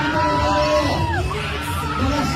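Dense crowd shouting, whooping and cheering along a nationwide motorcade for actor Coco Martin, loud and continuous with overlapping voices close by.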